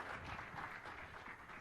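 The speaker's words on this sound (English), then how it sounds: "Let's give the other people a round of applause." A conference audience at a SharePoint developer session claps for first-time attendees, a short, faint, steady wash of applause from a room of people.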